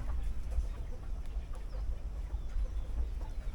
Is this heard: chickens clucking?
yes